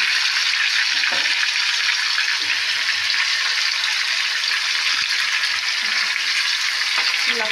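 Potato, onion, garlic, ginger and cumin frying in hot oil, a loud, continuous hiss and sizzle with occasional stirring knocks, close up and without voices.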